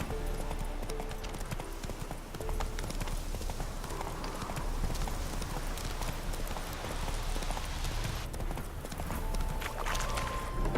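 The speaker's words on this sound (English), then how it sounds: "Spooking my horse. Roach doesn't like ghosts." Steady clip-clop of horse hooves over a busy background in The Witcher 3: Hearts of Stone, with a brief whinny near the end and faint talk mixed in.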